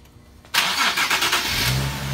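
A Nissan 370Z fitted with a cold air intake cranks briefly and fires up loudly after a quiet lead-in, with a sharp catch followed by a rough, pulsing rev that settles into a steady idle, close by.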